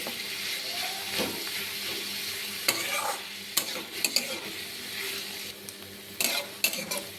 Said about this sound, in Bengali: পেঁয়াজটাকে আমি লাল করে ভাজবো না, আমি হালকা করে ভেজে নিব, একটু যাতে পেঁয়াজটা নরম হলেই চলবে।